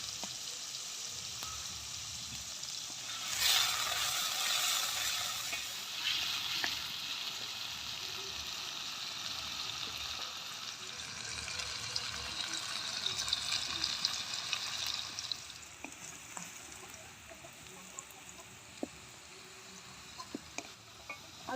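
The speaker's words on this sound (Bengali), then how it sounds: "আলুটা ভাজা হয়ে গেছে" Potatoes frying in hot oil with a little salt and turmeric, a soft continuous sizzle that swells in the middle and then settles, with faint stirring clicks near the end.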